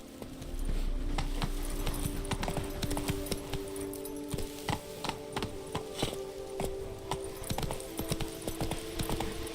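Roach, the horse in The Witcher 3: Blood and Wine, gallops in a fast, steady clip-clop of hooves, close and moderately loud, with no talking.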